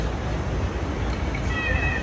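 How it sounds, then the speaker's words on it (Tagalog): A cat in Tokyo gives a short, fairly close meow over a dense city background of noise and rumble, heard as one brief vocal cry in the middle of a busy street scene. "Now, ayan yung ating famous na pusa. Ayan na, mag-iingay yan."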